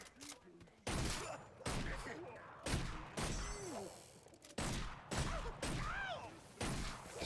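Blunderbuss shots in the video game Orcs Must Die 3, a series of about six sharp, loud blasts spaced roughly a second apart, each with a booming tail.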